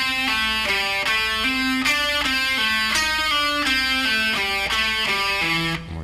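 A distorted electric guitar plays a fast descending pentatonic rock lick, a dense run of overdriven notes stepping downward for several seconds, loud and continuous with no talking.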